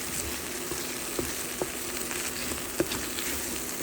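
Prawn and scallop surimi bites frying in Goan recheado masala, a steady close sizzle with a few sharp pops and light stirring clicks, no voices.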